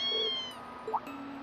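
A kitten meows in the Trails of Cold Steel video game, a high tonal cry followed a moment later by a shorter, rising chirp-like meow over soft game background ambience, with no speech.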